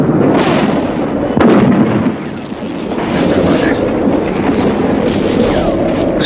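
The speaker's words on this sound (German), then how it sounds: "Sie ist direkt vor dem Kopf von Planets explodiert." A hand grenade explodes in a German radio crime play, a heavy blast that rolls into a sustained, loud roar of rumbling noise lasting several seconds.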